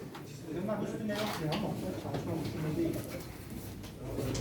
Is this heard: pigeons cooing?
yes